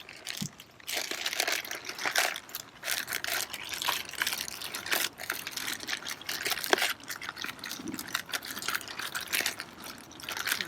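Rum cake batter being stirred outdoors on the trail for a Bundt pan, a close, irregular wet scraping and squelching that keeps going with uneven bursts and no voices.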